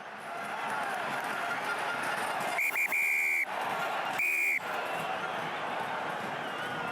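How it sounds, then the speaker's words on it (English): A referee's whistle at a Top 14 rugby match between Clermont Auvergne and Stade Francais: two sharp blasts, the first longer and the second brief, cutting through loud, constant crowd noise. "trying to make his whistle heard"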